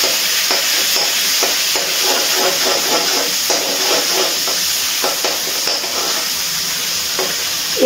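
Ginger paste stirs and sizzles in hot oil in a pan, a steady close frying hiss with repeated soft scraping strokes of a spoon, no talk.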